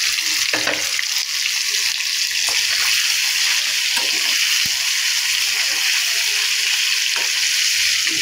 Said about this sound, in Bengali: মাথাগুলো ভালোভাবে ভেজে নেব।